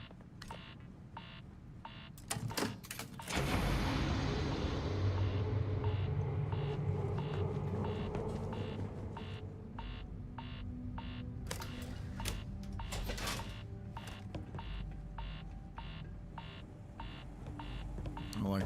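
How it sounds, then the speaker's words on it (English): A video game sounds a steady, repeating electronic beep at even intervals, running under a loud rumbling game background, with one short break. "The beeping's giving me anxiety."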